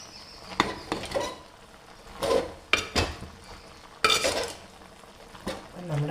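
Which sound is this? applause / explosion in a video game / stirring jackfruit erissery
stirring jackfruit erissery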